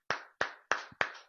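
A church congregation applauds, five sharp, evenly spaced claps sounding close and crisp in a quick steady rhythm, with no voices heard.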